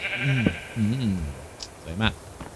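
Sheep bleat in the Minecraft video game: three wavering bleats, moderately loud, with faint background sounds between them.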